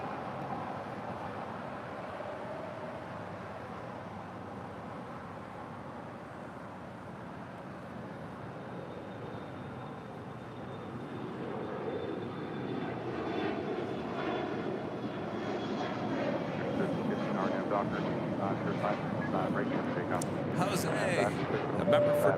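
Airliner in More to Love livery with a white nose taxiing at LAX, its engine drone building gradually from faint to louder, with voices talking over it.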